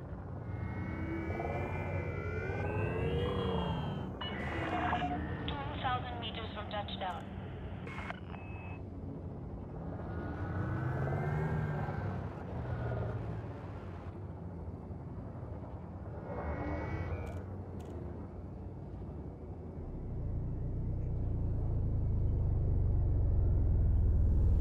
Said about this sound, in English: we're gonna go in here for a manual landing.